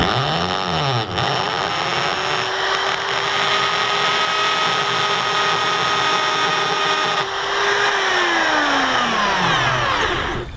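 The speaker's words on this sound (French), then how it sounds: "ici on a percé notre bouchon" An electric drill bores a hole through a plastic bottle cap for a homemade water rocket, a loud sustained whine that winds up, holds steady for several seconds, then spins down, close by with no talking.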